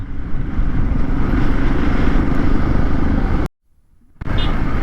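A group of fifteen motorcycles riding up a ghat road, a loud continuous engine drone and wind rush close by, dropping out briefly to near silence before resuming.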